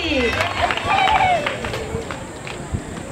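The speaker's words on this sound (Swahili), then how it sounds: "Makofi kwa CWT." Scattered clapping from a crowd at a secondary school graduation ceremony in Tanzania, mixed with loud speech and general hubbub.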